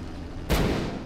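A flashbang grenade goes off in XCOM: Enemy Within with one sudden loud broadband blast. A dense roar then decays over the following half second. No voices are heard.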